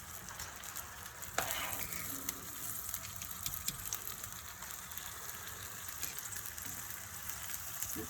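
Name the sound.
ricotta gnocchi frying in a frying pan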